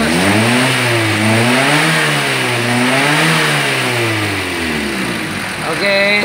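A car engine is revved repeatedly during a cylinder head gasket leak check, giving loud, close, rising and falling revs that return toward idle between pulls.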